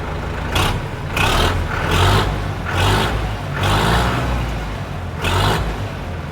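A four-cylinder tractor engine runs close by with a deep truck-like rumble, its revs rising and falling in a steady pulse of roughly one surge per second, alone without talk.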